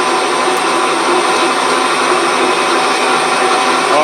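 A high speed steel cutter machines a tough steel muck trailer wheel hub on a lathe at about 175 rpm, a loud steady close grinding whir that holds unbroken throughout.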